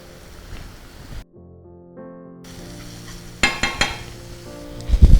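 Green chilli and spices sizzle while frying for Maharashtrian dal tadka, with stirring clinks and scrapes of a spoon against the pan, close and moderately loud, ending in a few sharp knocks.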